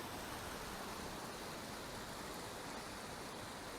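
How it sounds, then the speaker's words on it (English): Cripple Creek in Colorado runs as a dense, even hiss of rushing water, close and continuous for a few seconds with no voices. "This is Cripple Creek right here."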